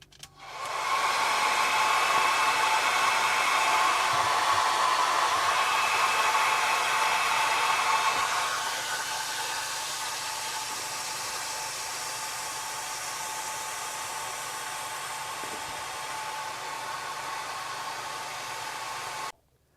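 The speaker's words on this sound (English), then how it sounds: "I'm done defrosting with the hair dryer" A hair dryer blows a steady broadband whoosh while defrosting a boat refrigerator, loud for about eight seconds, then dropping to a lower, softer setting that runs evenly until it cuts off abruptly at the end.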